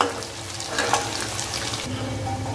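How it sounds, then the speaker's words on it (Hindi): Two small finely chopped onions fry in a pan for aloo methi sabji, giving a continuous soft sizzle and hiss close by, with slight stirring scrapes. "प्याज डाल देंगे, दो छोटा साइज का प्याज है बारीक चॉप करके डाल दिया है। इसको लाइट से हल्का सा लाइट ब्राउन करेंगे।"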